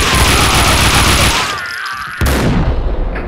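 Gunfire in the Max Payne 2 video game: a dense, loud stretch of shots and booming blasts that drops out briefly, then returns as heavy firing in the game's action.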